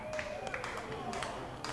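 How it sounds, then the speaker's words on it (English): A baseball crowd at a Ducks vs. Blue Crabs game claps in a steady rhythm, a thin wash of claps a little distant. An announcer's voice runs underneath. "gets that rhythmic clapping going for Anderson De Leon"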